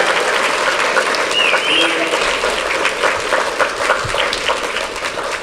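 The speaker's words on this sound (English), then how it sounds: "Can we give her another round of applause?" An audience applauds steadily, a dense wash of many hands clapping at once that holds at a strong, even level throughout.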